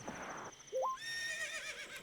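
A horse whinnies from a Zelda video game, a short rising cry followed by a longer wavering neigh over soft game music, fairly faint with no talking.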